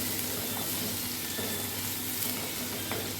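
Onions sizzle steadily in a pan for a Kerala-style squid curry, with a continuous broadband hiss and a few soft stirring scrapes, close and alone with no talking.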